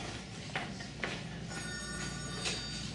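A telephone bell rings in a murder-mystery comedy setting, its steady metallic trill sitting faintly over a constant hiss of background noise, with a few soft knocks early on.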